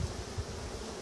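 Honeybees in a broodless split a few days after being shaken into a new hive give a soft, steady buzzing hum close by, with faint low pulses and rustling underneath.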